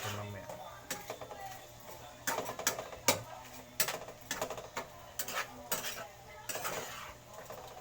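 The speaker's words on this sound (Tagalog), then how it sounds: "Ganyan lang, gisayan lang natin para lagyan ng kunting patamis yung mamaya." Shrimp being sautéed with garlic in a pan, a utensil scraping and stirring in repeated sharp bursts over a low background hum, with faint sizzling between strokes.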